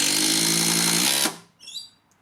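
A power drill spins at a steady whine to drive Simpson Strong-Tie coated screws, near and loud, then cuts off abruptly and leaves a brief faint tail.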